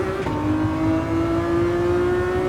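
A Ferrari FXX K race car engine accelerates on the Sardegna track in the video game Gran Turismo 7. It gives a loud, steady, rising high-pitched whine from the cockpit, with no talk.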